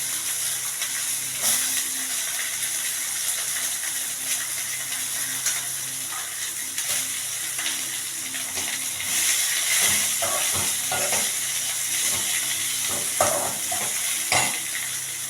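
Broad beans (avarakkai) frying in hot oil in a pan, a steady close sizzle and hiss with occasional scraping and clinks of a stirring spoon, no voices.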